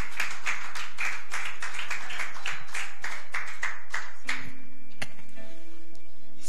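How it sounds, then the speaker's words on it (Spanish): A church congregation claps to welcome Pastor Ruth Ledesma to the pulpit, a quick rhythmic run of distinct sharp claps for about four seconds before it thins into a few scattered taps and a single loud slap. "Si le puede dar un aplauso, por favor, para recibirla"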